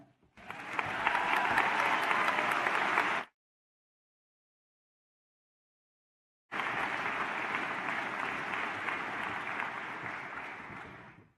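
A graduation audience claps loudly in a dense, sustained burst, falls completely silent for a few seconds, then breaks into a second long round of applause that slowly fades.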